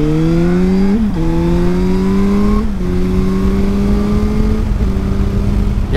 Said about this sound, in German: also das Bike kann schon gut nach vorne schieben, ne? Für eine 600er.